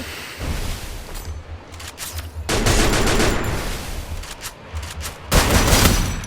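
Rapid gunfire in the Free Fire battle-royale game, with bursts from a shotgun and an MP5 submachine gun: several dense volleys of shots fire close and loud, separated by brief lulls, with no talking.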